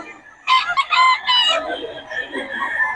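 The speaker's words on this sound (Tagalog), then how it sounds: "Diyan na pala manok si Boss Berry" Several loud rooster crows ring out close by, followed by softer clucking and chicken chatter continuing in the background among gamecocks in Bocaue.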